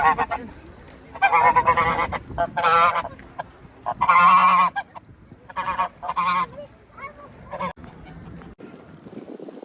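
Swans and ducks honking loudly at close range while being fed outdoors, several bursts of harsh nasal calls overlapping, separated by pauses, with some wind noise.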